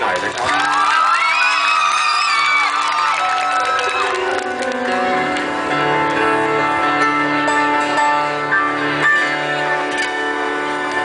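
A live show audience cheers and whoops loudly, with high shouts rising over the noise, then settles into sustained applause and chatter.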